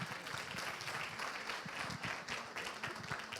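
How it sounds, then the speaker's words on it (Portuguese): Audience applause greets a trainer called to the stage at a Portuguese training-presentation event, a steady, moderately distant patter of many hands clapping without pause, fairly quiet overall. "uma salva de palmas para o João Pedro Amaral"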